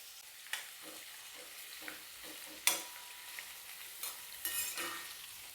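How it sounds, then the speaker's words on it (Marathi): Sliced onion and garlic fry over a high flame with a soft continuous sizzle, while a utensil scrapes and stirs the pan in irregular clinks and scrapes. "हाय फ्लेमवर आपल्याला कांदा परतून घ्यायचा आहे."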